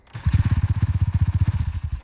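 A motorcycle engine in foggy conditions sputters with a rapid, regular chug of pulses at close range, running rough and uneven as if about to stall, with no talk over it.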